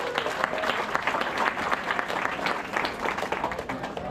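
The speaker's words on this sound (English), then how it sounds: "Dan, huge round of applause." Audience at a motorsports park racing awards banquet applauds steadily, a dense, continuous patter of many hands clapping at moderate distance, with faint voices mixed underneath.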